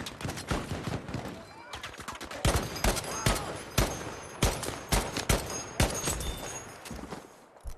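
Gunfire in the Battlefield V video game, mostly from a Gewehr rifle: a dense, rapid run of sharp shots, some overlapping, close and fairly loud throughout.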